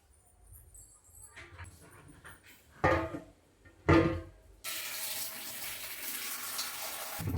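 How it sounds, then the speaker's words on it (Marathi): Sprouted potatoes are rinsed under running tap water, starting with a few handling knocks and splashes before a steady faucet stream gushes loudly to the end. "सगळे मोड काढून आलू स्वच्छ धुवून घेते अगोदर"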